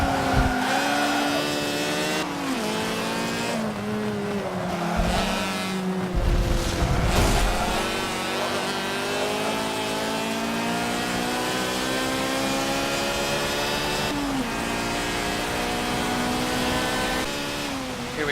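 A rotary-engine race car in Forza Motorsport 7 revs high and fast, a loud buzzing engine note that climbs and drops through repeated shifts, with a brief tire squeal midway.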